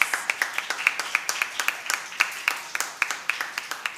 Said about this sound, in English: Let's give another round of applause to both our teams.